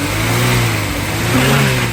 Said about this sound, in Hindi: इसको स्टार्ट करके इसकी परफॉर्मेंस चेक कर रहे हैं